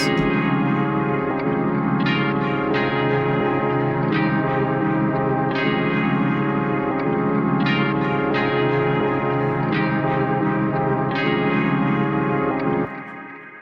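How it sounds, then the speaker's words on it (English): Bright plucked guitar notes ring over a dense, sustained backing, with recurring accents every couple of seconds before everything stops abruptly. "so I decided to add a bit of guitar to it."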